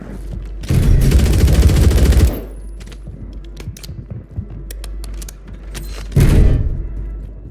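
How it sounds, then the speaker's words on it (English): Enemy gunfire in a Warzone battle royale match: a loud sustained burst of automatic fire, then a quieter stretch of scattered clicks and thuds, and a second short loud burst near the end. "Enemy fire incoming"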